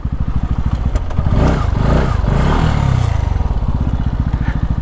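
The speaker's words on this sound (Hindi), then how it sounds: "तो फिलहाल बाइक को यहाँ पे कर दिया हमने खड़ा" A Bajaj Pulsar NS200 BS4 motorcycle engine thumps loudly and close at a rapid, even idle, swells briefly into a rougher rev and then settles back into the steady idle as the bike is parked.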